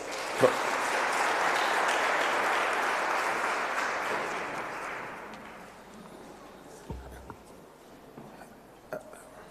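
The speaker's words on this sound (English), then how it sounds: "Let's give Prof a big round of applause." An audience at a Cyril Ramaphosa Foundation event gives a professor a big round of applause that swells, holds for several seconds, then fades into quiet room noise with a few scattered knocks.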